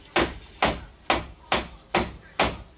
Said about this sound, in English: Bang your spindle free, your axle.